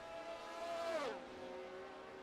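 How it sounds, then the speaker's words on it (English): A race car engine in a Formula racing sim at the Brazilian Grand Prix, a steady high whine that rises, then drops sharply in pitch as the car sweeps past, continuing at a lower droning tone. "Man, I can't get over how beautiful that car sounds"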